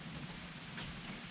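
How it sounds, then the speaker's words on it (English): Slow, steady rain falling outdoors over farm ground after hours of rainfall, heard as a continuous soft hiss with no distinct drops or talk. "it's been a nice slow steady rain"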